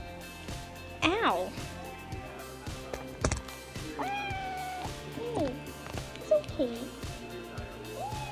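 A pet cat meows several times while being held indoors, the rising and falling cries fairly close and clear, with a person talking softly to it in between.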